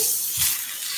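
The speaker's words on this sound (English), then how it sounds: "Oh, look at that sear. Oh my gosh. Right? Yeah. It is searing for sure." Tomahawk steak searing in a hot pan, a steady bright sizzle and hiss that holds throughout, with a faint low clatter near the middle and no talking.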